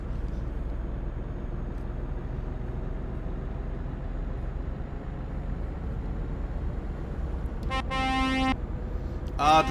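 A truck horn in Euro Truck Simulator 2 sounds one clear, sustained blast of about a second near the end, then a brief second toot, over a low, steady engine rumble.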